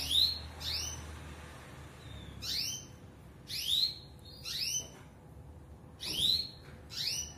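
A Java sparrow chick being fed by a canary foster mother gives bursts of thin, high chirps and squeaks, repeated in several short clusters with quiet gaps between them, close and fairly soft.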